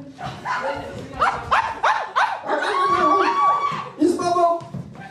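Rapid dog-like barks and yips ring out during a game at a Polish wedding reception, loud and close, in a quick repeated string with people's voices mixed in.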